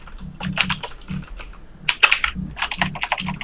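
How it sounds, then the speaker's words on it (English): Fast, loud clattering of computer keyboard typing, close up and continuous in uneven bursts of keystrokes. "Damn, your keyboard is loud, Devin."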